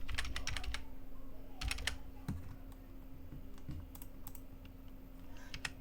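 Computer keyboard keys clatter in quick, irregular bursts as someone types details into an online hospital account form, with short pauses between the runs of clicks. The sound is close and fairly soft over a steady low background hum, and no one speaks.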